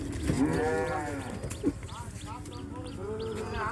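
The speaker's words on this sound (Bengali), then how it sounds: "দেশি অস্ট্রেলিয়ান ষাঁড় দেখা যাচ্ছে, অস্ট্রেলিয়ান ষাঁড় আছে। আনলোডিং হচ্ছে ট্রাক থেকে।" Desi and Australian bulls being unloaded from a truck at a riverside cattle market ghat, with a low moo and shuffling livestock amid crowd chatter and market noise throughout.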